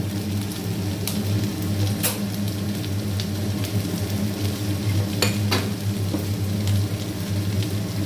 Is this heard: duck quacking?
no